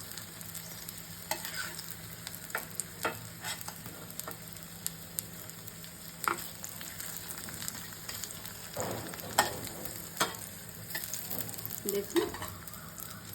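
Spiny gourd (kakrol), boiled and coated with salt, turmeric and rice powder, frying in a little oil: a steady close sizzle broken by repeated stirring scrapes and clinks, with one brief spoken word.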